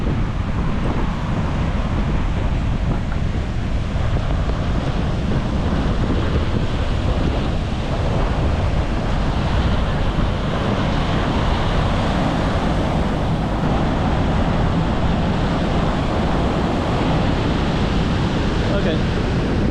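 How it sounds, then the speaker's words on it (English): Ocean surf rolls continuously onto a beach in Da Nang, Vietnam, a loud, steady roar of breaking waves mixed with wind buffeting the microphone. "And the waves look really high."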